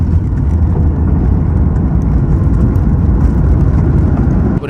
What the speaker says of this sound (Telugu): 2 minutesలో దిగింది ఫ్లైట్ కిందకి